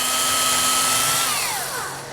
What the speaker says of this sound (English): We'll drill a hole here,